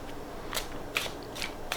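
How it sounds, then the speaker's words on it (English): Tarot cards shuffled by hand in a basic overhand shuffle, soft quiet riffling flicks in a few short bursts, close and faint. "I like to do just a basic hand shuffle like that"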